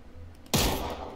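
A single loud gunshot in PlayerUnknown's Battlegrounds bursts out after a low, quiet stretch, its boom lingering and fading slowly over the next moment.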